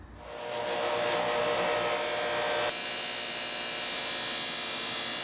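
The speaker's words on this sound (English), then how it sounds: "While you're buffing, don't be afraid if some of this stuff is staying behind." A power buffer polishes the plastic grille trim of a Mazda RX3, giving a steady, loud high-pitched whir that holds constant throughout, its tone shifting slightly partway as the pad presses on the surface, with no voices.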